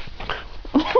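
An Italian Greyhound gives a short, close yip-like bark on command, a brief sharp burst near the end with faint whimpering sounds just before.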